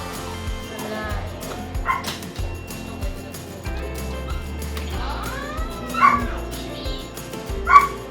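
A two-month-old puppy at a veterinary clinic barks, yips and whimpers in repeated short bursts under ongoing talk from staff, with room noise and clinic beeps in the background.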